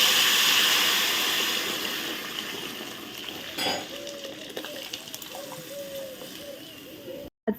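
Chopped tomatoes, onion, bay leaf and chilli fry in a pan for dal, with a bright sizzle that fades after a few seconds into softer bubbling, a stirring clink and a voice briefly in the background.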